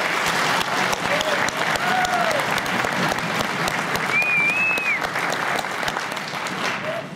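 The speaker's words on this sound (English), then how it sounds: "Let's give them a nice round of applause" Audience applause for sixth grade band students at a middle school recital fills the room, loud and continuous clapping from a sizable crowd with a few brief whistles and cheers rising over it.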